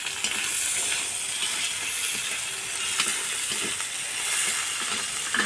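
Chopped onions frying in a pan, a continuous close sizzle and hiss with small scraping stirs, no voices.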